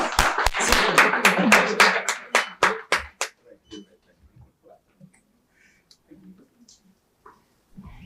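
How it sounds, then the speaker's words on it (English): An audience at a space standards ceremony applauds after a felicitation, giving a burst of loud, rapid clapping that thins into separate claps and fades out within about three seconds, followed by faint murmuring and rustling. "Can we have a huge round of applause once again?"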